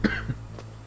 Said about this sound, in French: Oh mon dieu, je tousse